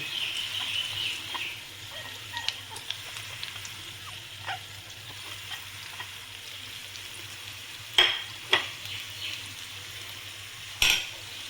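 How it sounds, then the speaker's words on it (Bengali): Spices go into a potato bhaji frying in a pan, giving a faint continuous sizzle with soft scrapes of stirring and a few sharp metallic clinks of a spoon against the pan. "ভাজিটা আমার হয়ে গেছে এবার আমি সমস্ত মশলাগুলো যেগুলো তোমাদের দেখিয়েছি সব একে একে দিয়ে দিচ্ছি"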